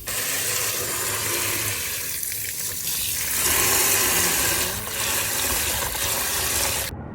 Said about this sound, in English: Now I'm gonna add the water